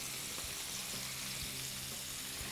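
Food sizzling and frying in a hot pan with a squeeze of lemon, a steady broadband hiss with faint low crackles, fairly quiet and with no talk over it.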